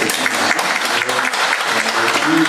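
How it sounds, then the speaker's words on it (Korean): A church congregation breaks into steady, full applause during a worship service, sustained clapping from many hands filling the room, with a faint voice underneath. "우리 한번 감사와 격려의 박수 한번 해주시면 좋겠습니다"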